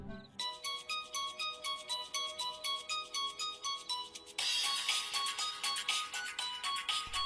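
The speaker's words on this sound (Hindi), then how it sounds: "फोन तो आ गया।" Phone ringtone playing alone, a repeating electronic melody pulsing steadily and getting louder and brighter partway through.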